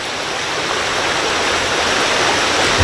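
Creek water rushing steadily through Hilton Creek just downstream of Bradbury Dam, fed by water pumped from Cachuma Lake; a continuous, full, broadband stream roar, close and unbroken.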